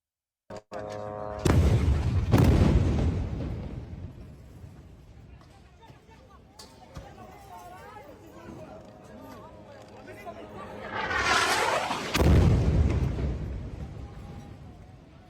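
Explosion destroying the 12-floor Al Roya commercial high-rise in Gaza: a sudden loud blast followed by rumbling debris, then a second heavy surge of roaring noise near the end, with crowd chatter and voices underneath.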